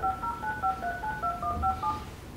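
Telephone keypad dialing tones: a quick run of about ten short dual-tone beeps at a steady rhythm, moderately loud over a low background rumble with no talking.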